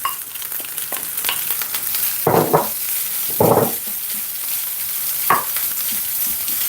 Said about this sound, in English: We're gonna add back a saute vegetable to this.